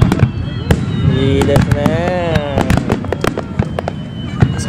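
Fireworks burst in a steady rapid series of sharp cracks and pops, loud and fairly near, while a crowd talks and a voice comments briefly over the bangs.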